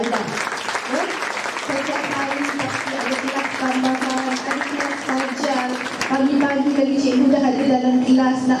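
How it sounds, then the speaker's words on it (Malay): A graduation ceremony audience at SMK Puteri Ampang applauds the teachers with steady, sustained clapping that grows slightly louder near the end, while a voice continues over it. "Jadi beri tepukan pada guru-guru anda."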